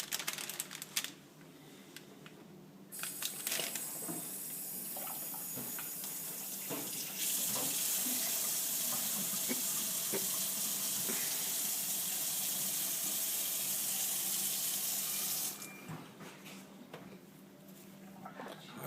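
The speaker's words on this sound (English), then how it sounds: "turn the water on, and it will work" Water runs from a repaired Franke faucet after reassembly: a steady hiss that starts after a few seconds, grows louder and fuller midway, holds for about eight seconds, then drops back to a lighter flow, close by and with no talking.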